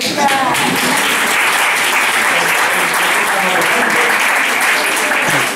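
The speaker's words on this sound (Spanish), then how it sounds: "voy a pedir un aplauso para mi hermano Ezequiel" An audience gives continuous applause at a gathering in Cádiz, steady close clapping throughout, with voices audible underneath.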